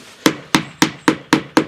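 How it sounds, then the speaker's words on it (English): A hammer lightly taps EPDM rubber roof trims onto a shed or garden room roof, six evenly spaced, crisp, close knocks about a quarter second apart, with nothing else heard. "That's why I'm choking the hammer, as they call it."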